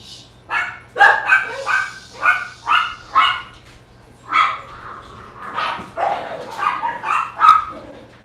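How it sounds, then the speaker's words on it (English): Several dogs bark and yip at home, with a rapid, loud run of barks close by that goes on throughout. "My dogs are going crazy."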